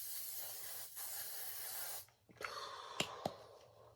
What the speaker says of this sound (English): the very last step is my setting spray.